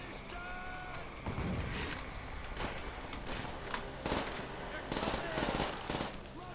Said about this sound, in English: run onto this balcony and provide covering fire for your guys down below